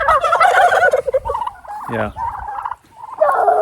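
Turkeys gobbling on a lawn, loud nearby bursts of rapid warbling gobbles in several calls with short gaps, and a brief voice speaking between them.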